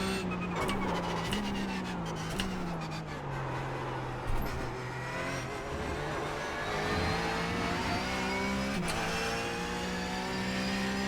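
An iRacing race car engine pulls hard under acceleration, its pitch climbing and dropping through gear changes, loud and continuous with nearby cars mixed in.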